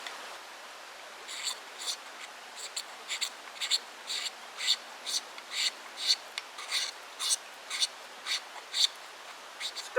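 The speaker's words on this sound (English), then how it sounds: "Oh yeah, it's scraping off pretty good." A dollar store magnesium fire starter block being scraped into shavings, a close series of short rasping strokes repeating in a steady rhythm, about twenty scrapes over quiet background.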